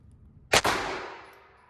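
A single sharp shot from a Walther PPK/S .22 LR pistol, followed almost at once by a metallic clang from a struck steel target that rings out and slowly fades.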